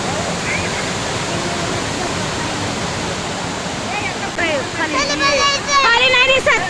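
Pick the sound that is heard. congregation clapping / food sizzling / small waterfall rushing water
small waterfall rushing water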